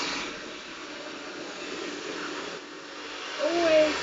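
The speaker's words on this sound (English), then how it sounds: "using my hairdryer, obviously I'll try and be as loud as I can, but the hairdryer is noisy" A handheld hair dryer blows in a steady, close whooshing roar throughout a blow-dry, its airflow shifting slightly as it moves along the hair, with a brief louder surge near the end.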